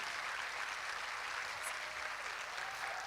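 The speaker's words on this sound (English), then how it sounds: "please remember to give her a round of applause as she comes to the podium" A conference audience applauds as a speaker walks to the podium, an even, continuous wash of clapping from a large room, fairly distant and soft, with no voices over it.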